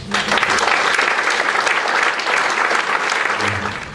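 A room full of people applauding a Hartford Hawks Hall of Fame inductee and his teammates, dense, loud continuous clapping that holds steady for several seconds and eases slightly at the end.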